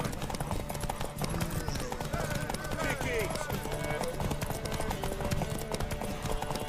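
Rhythmic clip-clop of horse hooves runs continuously amid a busy soundscape from the video game The Witcher 3: Wild Hunt, with a voice talking over it.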